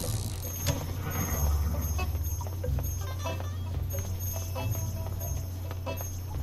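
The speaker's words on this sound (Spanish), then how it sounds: "Miren los caballos." Horses clip-clop steadily in the Lone Ranger world of Disney Infinity 1.0, their hoofbeats running as a continuous rhythm over a low rumbling game background, with no talk.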